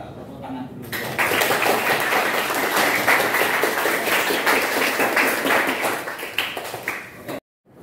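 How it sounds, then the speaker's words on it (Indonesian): Schoolchildren applaud in a classroom, a loud burst of many hands clapping that starts abruptly, keeps a thick, even patter for about six seconds, then tapers and cuts off. "Tepuk tangan dulu."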